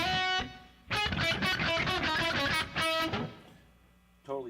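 Electric guitar drenched in ambient reverb and delay, a strummed chord phrase ringing with sustained harmonic tails that swell and decay, played alone at moderate level.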